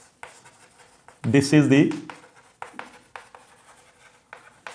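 Chalk or a pen writing on a board during a physics lesson on an Atwood machine, with short scratchy strokes scattered between a teacher's spoken words, faint and close.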